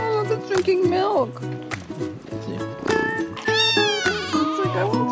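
Kittens meow during an empanada meal outdoors in Northern Patagonia, their short high-pitched cries rising over almost constant nearby talk and laughter.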